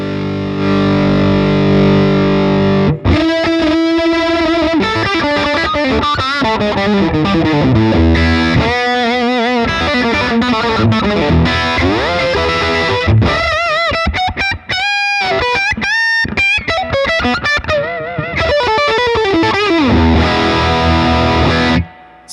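A PRS McCarty electric guitar through an amp's distorted lead channel opens on a held chord, then rips into fast, saturated lead runs and bends, loud, close and continuous with no talking.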